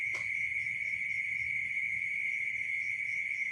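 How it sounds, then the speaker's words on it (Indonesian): Crickets chirp at night in a steady, continuous high trill that holds unbroken throughout, alone in a hushed quiet setting. "Wong kalau waktu hening kan apapun suara kecil kan bisa terdengar Ya, contohnya jangkrik ini."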